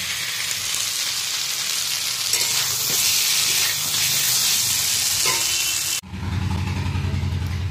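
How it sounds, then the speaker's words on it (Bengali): Potato and cauliflower being sautéed in a kitchen pan give off a loud, continuous frying sizzle with stirring scrapes, which cuts to a lower, rumbling hiss near the end. "আর রান্নাঘরে দেখো আলু আর ফুলকপিটা কষাচ্ছি, জল দিয়ে দেবো"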